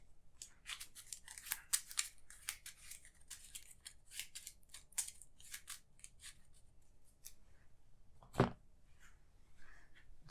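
Cards being shuffled during a tabletop card game session, a dense run of quick crisp riffling snaps and paper rustles, close and fairly quiet, thinning out toward the end with one sharper knock.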